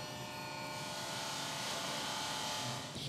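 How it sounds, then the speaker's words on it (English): A Parmigiani watch case held against a spinning polishing wheel, giving a steady, continuous whirring hiss with a faint tonal hum, fairly loud and unbroken throughout, with no talking. "And now Vasco is going to make the polishing come to life on this case."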